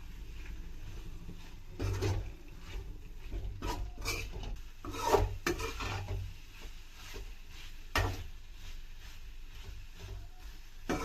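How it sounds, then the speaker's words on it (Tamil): Chicken liver being hand-mixed with salt and masala spices in a bowl, a quiet rasping, rubbing sound with soft scrapes and a few sharper knocks, no talking. "இது எல்லாத்தையும் நல்லா மிக்ஸ் பண்ணுறேன்"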